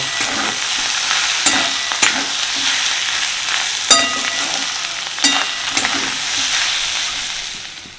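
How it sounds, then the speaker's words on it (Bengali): Boiled, mashed fish roe being stirred into potatoes in a sizzling pan, with steady frying hiss broken by sharp spoon scrapes and clacks against the metal at irregular intervals, no talking. "এবার এর মধ্যে আমি মিশিয়ে দিচ্ছি আগে থেকে নুন হলুদ দিয়ে সেদ্ধ করে হাফ দিয়ে স্ম্যাশ করে রাখা মাছের ডিম দিয়ে খুব ভালো করে আলুর সঙ্গে মিশিয়ে নেব"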